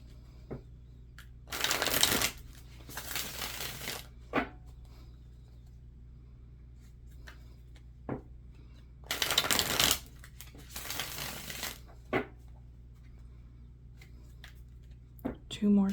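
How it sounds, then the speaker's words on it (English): Deck of cards shuffled for a pick-a-pile tarot reading, several bursts of crisp riffling close to the microphone with quiet pauses and a voice talking between them. "2 more shuffles."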